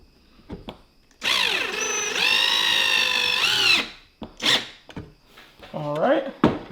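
A power drill drives screws into wood while building a rustic coat rack, whining in one long sustained run, then two short bursts and a rising spin-up, close and loud.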